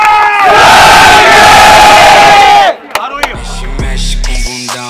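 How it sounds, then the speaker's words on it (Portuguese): A loud crowd roars and cheers at a Rio de Janeiro rap battle, a sustained shout for almost three seconds that cuts off sharply. Scattered claps and percussive knocks with a low rhythmic beat follow. "uma salva de palmas pra nós aí"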